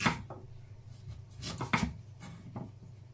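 A knife cuts peeled fish into blocks on a board, giving several soft, dull chopping thuds at uneven intervals, close and quiet, with no speech.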